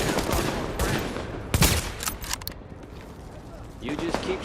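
Gunfire in The Division, a busy burst of shots and impacts around the middle of a noisy firefight, with voices calling out over the action.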